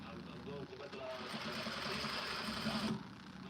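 A sewing machine slowly stitching hoodie fabric hums in a quiet, continuous whir that cuts off near the end, while a person talks over it.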